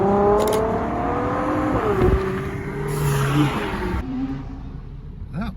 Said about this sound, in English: the F40 appears to be on the move again